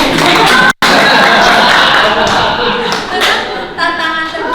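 Applause from a seated audience at a teacher training session, a dense burst of clapping that fills the room, briefly cut off, then continuing with scattered claps and faint voices.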